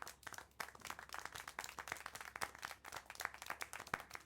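Crowd applause in the video game Syberia, a dense run of many hands clapping at close range, steady and fairly loud throughout.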